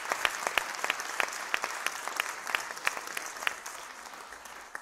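Audience applauding at a Hungarian youth talent gala award ceremony, a sustained crowd clapping with distinct, evenly spaced sharper claps standing out near the front over several seconds.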